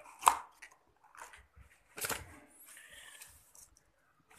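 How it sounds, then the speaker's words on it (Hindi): A cutting machine trimming ID and visiting cards, a few separate sharp chopping clunks, two louder than the rest, with light rustling and mechanical shuffling between them. "उसके बाद हम इसको कटिंग कर देते हैं इस मशीन में।"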